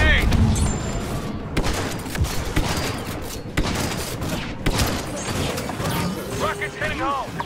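Battlefront 2 combat with a grenade blast amid sustained rapid gunfire and clattering battle noise, loud and unbroken throughout, with voices talking over the fight.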